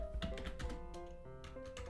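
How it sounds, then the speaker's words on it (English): Someone typing on a computer keyboard in a basement, with quick bursts of light clicking keystrokes close up and a steady electrical hum underneath, and no speech. "Whenever I'm typing like this"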